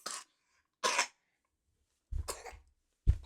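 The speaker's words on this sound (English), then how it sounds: "Pardon the coughing." Four separate coughs ring out close by with short pauses between them, the last two heavier and chestier.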